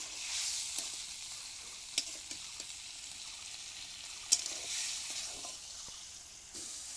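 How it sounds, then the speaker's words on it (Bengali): Fish pieces frying in a pan of cooked spice paste masala, a steady broadband sizzle with occasional sharp pops and spatters, close and continuous, with no talking. "এখন এখানে দিয়ে দিচ্ছি মাছগুলো।"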